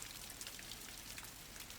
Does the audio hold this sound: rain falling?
yes